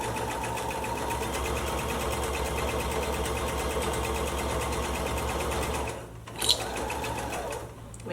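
Sewing machine running a 3/8 inch seam on a Christmas stocking, a fast steady motor hum and needle chatter for about six seconds, then a pause with a click and a short restart.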